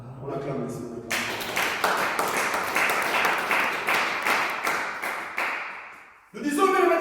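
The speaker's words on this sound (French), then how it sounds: "On acclame le Seigneur." Church congregation clapping in acclaim, a dense burst of many hands beating in a steady rhythmic pulse for about five seconds, loud and close, with a voice speaking before and after.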